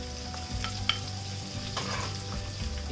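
Chopped garlic and diced onion frying in oil in a pan: steady, close sizzling hiss with faint stirring scrapes and a low hum underneath, no voices.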